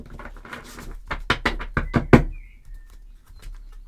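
A deck of tarot cards is shuffled by hand close up, giving a quick run of crisp riffling snaps and taps that builds to a sharp final slap, then quiet.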